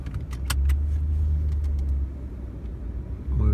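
A car towing an Airstream travel trailer with suspected locking brakes pulls away, its engine rumbling steadily and close, with rattles and clinks from the hitch early on and no talk.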